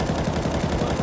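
A continuous gun spray in Counter-Strike: Global Offensive, a brief, loud, close string of rapid automatic shots evenly spaced with no pauses.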